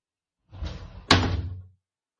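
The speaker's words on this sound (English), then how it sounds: "Can you close the door?" A door is swung shut nearby: a brief scraping movement, then a solid thudding slam that fades out quickly.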